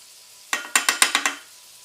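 Flour being stirred into melted butter in a pan for sausage gravy: a quick run of six or seven close scraping, sizzling strokes, alone with no talk.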